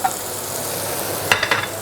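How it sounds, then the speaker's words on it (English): Oil sizzles steadily as peppers fry in a hot pan, with a few quick scraping stirs near the end. "Peppers sizzling, look at that."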